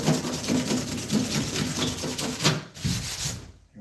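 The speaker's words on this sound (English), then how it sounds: "Now let's see if I can scrape across these to get those edges out even more." Edges are scraped by hand, making a close, raspy rhythmic rubbing of repeated strokes that fades at the end.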